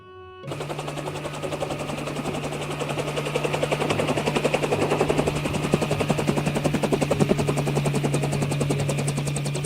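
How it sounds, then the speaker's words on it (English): A toy ambulance helicopter gives a loud, steady electronic rotor whir with a rapid chopping pulse and a constant tone, running close and uninterrupted for the whole stretch. "Ambulance helicopter."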